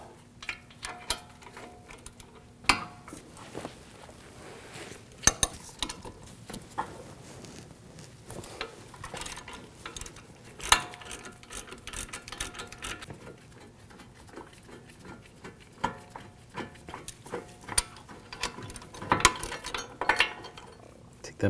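A ratcheting socket wrench with a 15mm socket removes the brake caliper bracket bolts on a 2001-2009 Volvo S60, clicking in irregular bursts with metallic clanks, close up.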